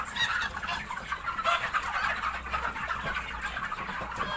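Crowded chickens on a farm at harvest, around 500 young roosters about 60 days old, cluck and murmur continuously as a dense, steady flock chorus with no clear pauses.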